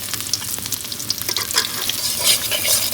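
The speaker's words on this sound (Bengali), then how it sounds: "পেঁয়াজ তো ভাজা হয়ে গেছে।" Onions fry with bay leaves in hot oil in a home kitchen pan, sizzling loudly and continuously while a utensil stirs and scrapes through them.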